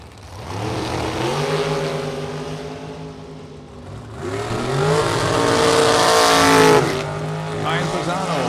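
Drag racing dragsters at a Super Pro and Pro elimination event, engines revving with rising pitch sweeps as cars launch and accelerate down the strip, loud and close, with a voice talking over them.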